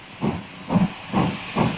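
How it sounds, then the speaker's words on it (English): Steam locomotive King George V no. 6000 hissing steam in four rhythmic bursts about half a second apart, moderately loud and close, with no voices. "Steam engines have a personality, and there's the sound."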